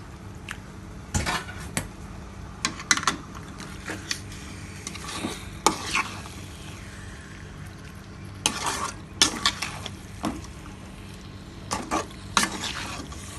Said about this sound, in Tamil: இப்போது இது நல்லா மசாலாவோட மிக்ஸ் ஆகிட்டு நல்லா வதங்கிடுச்சு